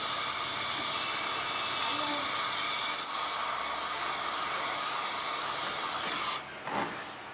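A gas torch roars with a steady loud hiss while melting tin (lead) for casting battery parts, a continuous spray-like rush that swells slightly before cutting off near the end.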